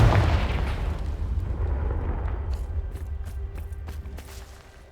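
A Confringo blasting spell explodes in Hogwarts Legacy with a loud, deep boom whose rumble fades slowly over several seconds, followed by scattered small pops.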